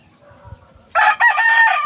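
Young stag rooster crowing loudly and close, a sudden bright burst that breaks briefly then continues, after a second of quiet low background noise.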